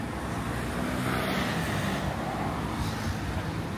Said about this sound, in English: Got a tourist bus pulling up.